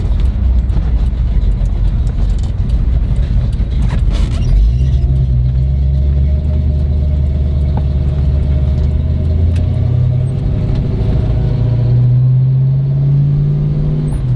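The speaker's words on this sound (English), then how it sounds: "is this stock exhaust on here? No, it's been changed to Flowmaster." A 1970 Buick GSX engine rumbles steadily as the car drives, with a deep aftermarket Flowmaster exhaust note that rises and swells as it accelerates toward the end.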